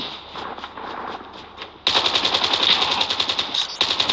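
Rapid automatic gunfire from a big gun in Call of Duty: Mobile, a loud sustained burst of closely spaced shots that kicks in abruptly and keeps rattling to the end, after softer game sounds.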